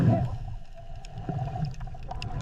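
Beluga white whales calling in icy polar water, a steady low gurgling underwater wash with faint high chirps and whistles scattered across a short stretch.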